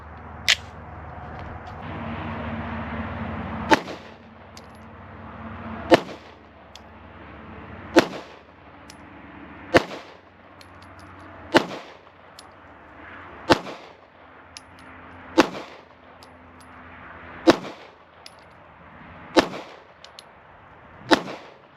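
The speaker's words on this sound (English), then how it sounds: "we're gonna fire another 10 rounds" A Strike Industries Strike 80 pistol fires ten rounds at the range, sharp single cracks spaced about two seconds apart in a steady rhythm, loud and near over a quiet background.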